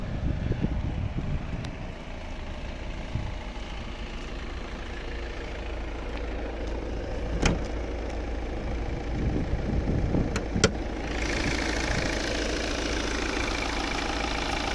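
A 2014 Volvo V60's 2.0 diesel engine idles steadily at a low, even rumble, with a few faint clicks and knocks along the way and no one speaking.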